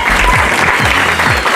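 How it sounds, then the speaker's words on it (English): Graduation audience breaks into sustained applause for the graduating class, a dense, loud wash of many hands clapping in a large hall. "Please, can you give them a big round of applause?"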